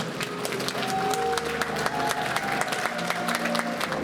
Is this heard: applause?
yes